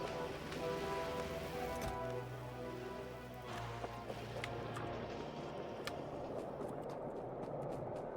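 Rain falls in the video game Factorio as a steady, faint patter with occasional louder drops over a low ambient drone.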